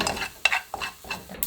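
Enoki mushrooms stir-fry in a pan, with quick spatula scrapes and tosses in a short uneven rhythm over a light sizzle, close and moderately loud.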